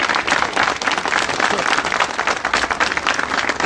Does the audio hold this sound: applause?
yes